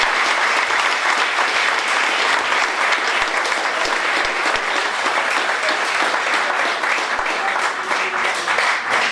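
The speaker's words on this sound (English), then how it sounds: "So give yourselves a round of applause," A forum audience applauds a panel, sustained clapping from a room full of people holding steady for several seconds before easing slightly near the end.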